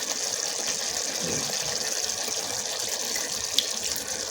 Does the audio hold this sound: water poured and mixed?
yes